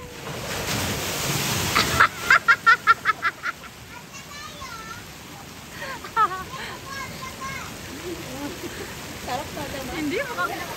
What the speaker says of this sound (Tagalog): bukod pa sa malakas yung agos ng tubig